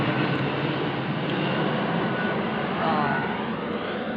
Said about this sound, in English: Plane going over, but the sky is so murky,